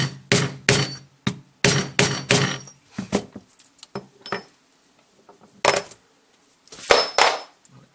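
A hammer drives a holnitin rivet with a Chinese hand setting tool, giving a series of sharp, close metallic blows. The strikes come in quick clusters with short pauses between them and ring against a quiet background.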